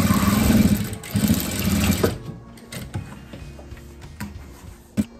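A sewing machine stitches a seam along a fabric dish towel, a steady close mechanical whir for about two seconds, then it stops, leaving quieter handling ticks and clicks.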